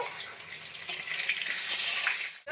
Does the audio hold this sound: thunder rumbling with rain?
no